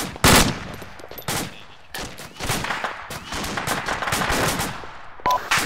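Gunfire during a firefight, with loud close shots and rapid automatic bursts that come in clusters, interspersed with more distant crackling fire, no speech.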